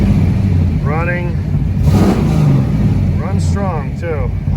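Pontiac Trans Am car engine idling close by with a steady low rumble, while a person speaks over it.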